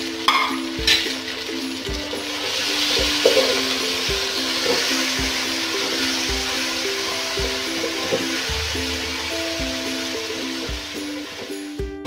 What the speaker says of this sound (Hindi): और साथ ही हम इसमें ऐड कर लेंगे टमाटर। और मसाले को अच्छी तरह से पका लेंगे।